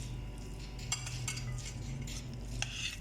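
Spoon scraping and clinking against a bowl while chana chaat is mixed with added tomatoes, a steady run of close metallic stirring clicks over a low background hum.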